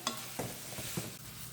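Fresh coriander leaves being sautéed in a pan for small onion chutney, giving a soft broadband sizzle with a few spoon-scraping stirs at a steady pace, close and moderately quiet, with no talking.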